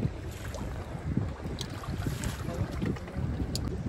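Strong wind and choppy waves around a small fishing boat at sea, a rough, gusting rush with water slapping against the hull, loud and close throughout.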